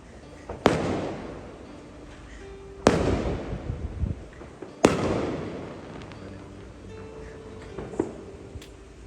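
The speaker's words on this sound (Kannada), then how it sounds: "ಪಟಾಕಿ ಎಲ್ಲ ಹೊಡೆದು ಡಾಮ್ ಡೂಮ್ ಅಂತ ಬಂದು ಕೇಕ್ನ ಕಟ್ ಮಾಡಿದ್ವಿ" Firecrackers go off at a midnight birthday celebration: three loud, sharp bangs spaced a couple of seconds apart, each trailing into a crackling decay, with smaller pops in between.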